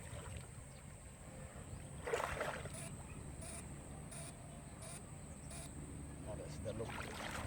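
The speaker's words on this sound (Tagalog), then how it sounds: "May labay ang motor." A motorboat engine drones steadily on the water during a fishing outing, a continuous mid-distance hum with a faint whining tone, heard alongside water sounds and low voices.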